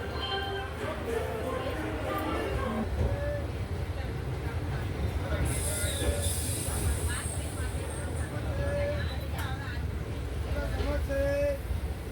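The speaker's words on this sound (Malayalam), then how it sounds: "അങ്ങനെ നമ്മുടെ Madurai Guruvayur express platform number 3 നിന്ന് എടുക്കുകയാണ്" From on board, the Madurai–Guruvayur Express pulls out of platform 3 at Madurai as a steady low rumble, with people talking over it throughout.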